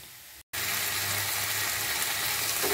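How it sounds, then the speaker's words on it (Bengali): An onion, bean and spinach bhaji fries in mustard oil, a dense, loud hiss that starts abruptly after a brief moment of silence and then holds steady and close. There is no talking. "এবার ভাজিটা দিয়ে দিচ্ছি"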